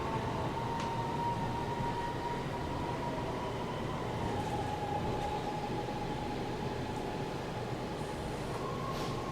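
MRT metro train at Bandar Tun Razak station in Kuala Lumpur, a steady loud rumble of the carriages with a sustained high whine running throughout, no voices.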